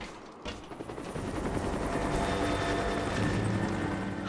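A helicopter in Rise of the Tomb Raider swells in quickly, its rotor chop building into a loud, steady roar that fills the rest of the stretch.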